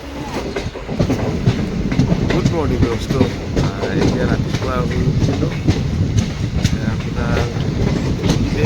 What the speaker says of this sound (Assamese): পাহাৰৰ মাজে মাজে ট্ৰেইনটো গৈ আছে